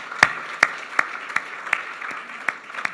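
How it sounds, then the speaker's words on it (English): Sparse, evenly spaced claps from a small audience at a Bondi and districts chamber of commerce evening event, fairly close and moderately loud over a soft room hum. "A round of applause."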